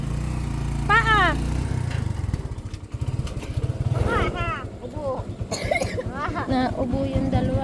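Coughing from a small child, brief harsh bursts mixed with voices of people talking nearby, close and fairly loud in a domestic setting.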